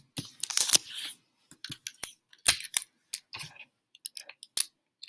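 Tape is pulled off and pressed down to hold a sheet of paper on a flat work surface, giving a series of sharp, close ripping bursts separated by short silences.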